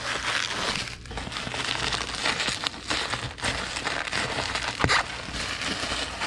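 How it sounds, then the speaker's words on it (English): Continuous crinkling and crumpling of plastic bubble wrap being wrapped around comic books for shipping, close and steady with a few sharper crackles and pops. "do another whole sheet of bubble wrap around the comic books"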